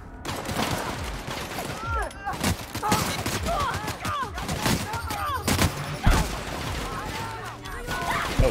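Gunfights in The Outer Worlds video game, with loud irregular gunshots cracking one after another at close range, mixed with mechanical clatter and a voice talking in between.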